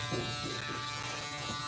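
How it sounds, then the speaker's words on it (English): A Wahl Vapor electric shaver buzzes steadily while shaving, a close, continuous hum with rough texture and no speech. "I almost didn't use the electric shaver on this side"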